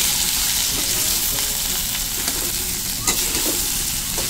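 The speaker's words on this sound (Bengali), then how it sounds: "আমি সেই গুঁড়ো মশলাগুলো সব দিয়ে দেবো, দিয়ে আমি ভালো করে নেড়ে নেবো" Eggplant and pumpkin fry in a pan with ground spices for a vegetarian dish, giving a loud, steady close-up sizzle with scraping stir strokes throughout and no talking.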